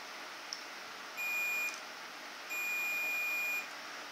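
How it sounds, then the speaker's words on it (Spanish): Multimeter continuity-test beep while probing a vehicle light bulb: two steady high electronic tones, a short one then a longer one, clear and close over a low background hiss. "tendrá que emitir un pitido."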